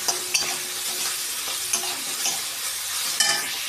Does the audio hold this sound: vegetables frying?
yes